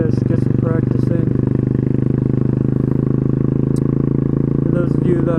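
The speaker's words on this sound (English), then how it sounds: "I'm learning wheelies on this 2001 Suzuki Savage." The 2001 Suzuki Savage single-cylinder motorcycle idles loudly and close, with a steady rapid thumping pulse throughout and a rider talking over it.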